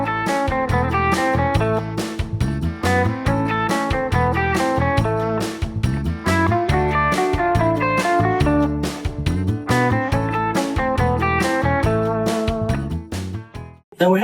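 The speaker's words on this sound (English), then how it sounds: "the country blues rock lick using color tones, chromatic approaching notes here, and a 6th interval" Electric guitar plays a country blues rock lick with colour tones, chromatic approach notes and a sixth interval over a loud, steady backing track with drums, continuous throughout.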